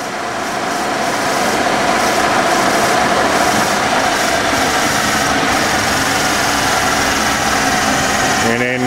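A 1965 Kearney & Trecker 530TF-20 horizontal milling machine runs at 1500 RPM, a loud, steady mechanical whir and hum that continues without a break, with a brief change in tone at the very end.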